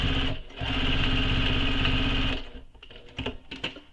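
A sewing machine runs steadily while stitching a waist pack, whirring loudly and evenly for about two seconds before it slows. Scattered clicks and handling noises follow.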